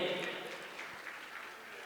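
Crowd at a Jain religious gathering clapping to honour a guest, a dense steady round of applause that slowly fades across the clip.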